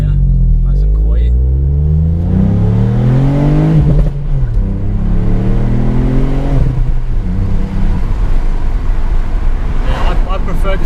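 A 2019 Ford Fiesta ST MK8 engine revs loud and close from inside the car, climbing and falling through several pulls under steady road roar.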